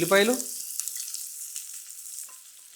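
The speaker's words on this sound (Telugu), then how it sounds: "ఉల్లిపాయల పైన ఒక హాఫ్ స్పూన్ అంత ఉప్పు వేసి ఈ ఉల్లిపాయలు చక్కగా వేయించండి" Chopped onions frying in a pan with salt, cumin and curry leaves for an egg curry, giving a steady, even sizzle after a brief voice at the very start.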